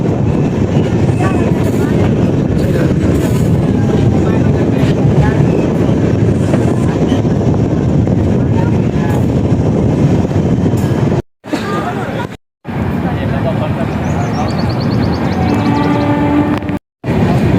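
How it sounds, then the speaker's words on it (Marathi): A passenger express train pulls into Sangola railway station with a loud, steady rumble for most of the stretch, then brief cuts and quieter station ambience with some higher tones near the end. "तर भावानं आपलं सांगोला रेल्वे स्टेशनवरती आगमन झालं आहे."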